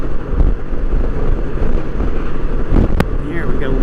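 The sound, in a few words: strong wind while riding a Honda Goldwing trike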